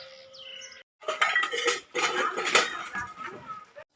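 Steel kitchen utensils clink and clatter close by as they are wiped dry and set out, a quick run of bright metallic knocks, with a bird chirping faintly beforehand.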